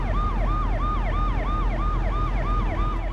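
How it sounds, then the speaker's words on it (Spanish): An ambulance siren wails in a steady, rapidly repeating rise-and-fall cycle, loud and continuous over a low rumble of traffic, with no voices. "médico de guardia, que era el doctor Benet, nos indica que vayamos en una ambulancia"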